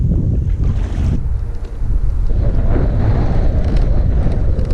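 Strong wind roars across the microphone on a fishing boat out on open water off California, a loud steady rush that gusts harder partway through, with no voices.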